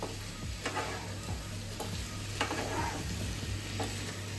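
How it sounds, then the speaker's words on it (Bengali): Potato and pumpkin pieces are stirred and fried with spices in a pan, with repeated scraping strokes over a steady close sizzle and no voices. "এখন আমি আলু কুমড়োটা দিয়ে মশলার সাথে কষিয়ে নিচ্ছি"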